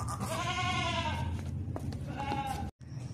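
Healthy, strong sacrificial goat bleating in a livestock lot, two drawn-out wavering bleats close by, with someone talking over the background noise.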